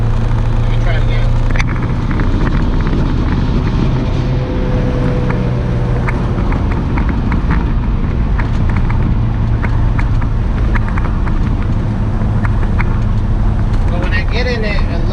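A turbocharged Mitsubishi Galant engine running loud and close for about fifteen seconds, its steady rough drone broken by irregular stumbles and faint popping as it misfires.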